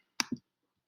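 A computer mouse gives two quick, close clicks in a quiet room, then silence.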